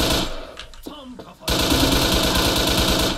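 Rapid automatic gunfire in Wolfteam hits the player, a dense rattling burst after a brief quieter stretch with a short voice.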